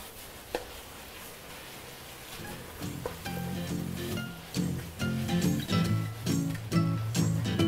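Braised vegetables with vermicelli and red fermented tofu being tossed with sesame oil in a hot pan, a steady sizzle with soft stirring scrapes that grow louder and more rhythmic toward the end, close up with no speech.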